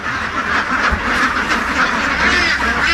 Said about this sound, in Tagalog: tingin muna tayo dito sa kanilang mga itik